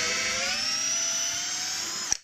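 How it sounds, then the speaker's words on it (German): A Parkside PBSA 12 D4 cordless drill drives a screw in a steady high whine whose pitch rises slightly, ending with a sharp click as the screw seats and the motor stops. "Gucken wir mal hier, ob wir hier die reinbekommen mit dem Schrauber."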